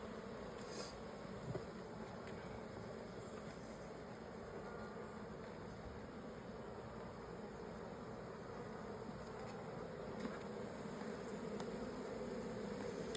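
Bees buzz around an open hive box, a steady, faint, continuous drone with no pauses and no talk.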